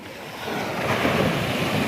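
Sea waves at Murudeshwar beach in Karnataka surge and wash over rocks in a building roar mixed with wind buffeting, close and steady, with no talk.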